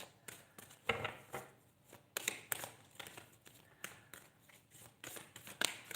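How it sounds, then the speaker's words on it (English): Tarot cards are shuffled by hand in a quiet room, a series of soft riffling bursts and taps with short pauses between them. "I just slowed down the shuffle then"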